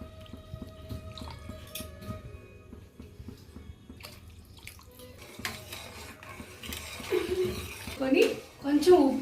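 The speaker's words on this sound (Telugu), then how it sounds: "ఇప్పుడు వాటర్ వేసుకుంటున్నాను." Water pours and splashes into a pressure cooker holding foxtail millet for upma. Light metallic clinks and drips come first, then a fuller pour grows louder near the end.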